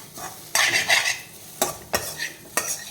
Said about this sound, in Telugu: కొబ్బరి కూర కూడా కొంచెం ఫ్రై చేసుకుందాం